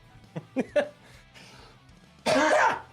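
Three short throaty bursts early on, then a longer, louder harsh burst near the end, like a cough or throat clearing up close.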